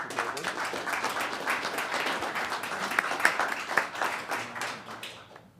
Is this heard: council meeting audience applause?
yes